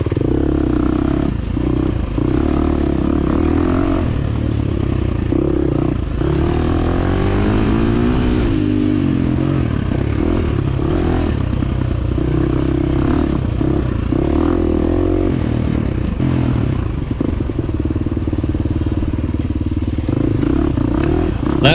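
A 2023 KTM 350 motorcycle races in a scramble at Lake Sugar Tree, its engine loud and continuous, revving and shifting as it climbs and drops, with clattering from the track and occasional indistinct voice.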